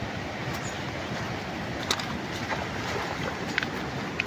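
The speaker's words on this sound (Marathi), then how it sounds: "खळखळ वाहतोय गावचा ओढा." A village stream in rural Konkan, running full after rain, makes a continuous rushing, babbling wash of water with a few light splashes and no voices.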